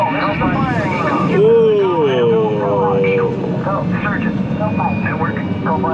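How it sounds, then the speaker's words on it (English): A simulated rocket liftoff on the Mission: SPACE ride at Epcot gives a loud, steady roar that holds throughout. A voice talks over it and higher synthetic tones sweep above the rumble. "All of us here at Mission Control are proud to be a part of this historic liftoff."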